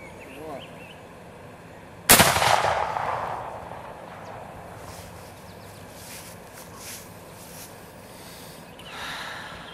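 A muzzle-loading rifle loaded with a spit patch and no primer fires once with a loud, sharp outdoor crack, followed by a fading rumble and quiet ambience, and a faint later swell of noise.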